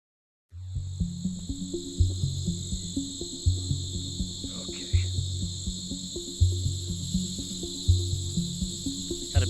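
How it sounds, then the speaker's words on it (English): Crickets chirp in a steady, pulsing chorus, loud and close, with a high continuous trill layered over rhythmic lower calls. "Are these crickets loud?"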